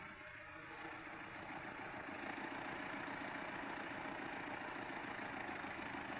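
A tractor engine idles continuously at a low, steady, droning rumble, unchanging throughout, with no voices.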